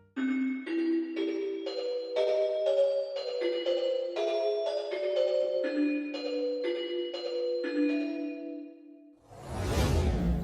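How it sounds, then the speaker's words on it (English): A celesta, a small piano-like keyboard instrument, plays a steady run of bell-like sparkling notes for about nine seconds, followed by a brief noisy whoosh near the end. "The Celesta is famous for its magical, sparkling timbre"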